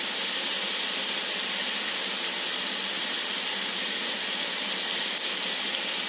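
Ragi pakoda batter crumbled into hot oil sizzles with a dense, even, continuous hiss, close and steady for several seconds, with no talk.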